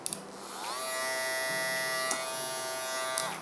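A steady electric buzz of a hair clipper running continuously at close range, with a couple of brief clicks, no talking.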